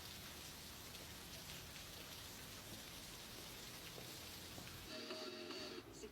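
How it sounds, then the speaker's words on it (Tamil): Steady rain falls in a dense, continuous hiss of drops on surfaces, heard close and unbroken throughout, with a faint tonal hum entering near the end and no voices. "மழை வேற பெஞ்சிட்டு இருக்குல்ல."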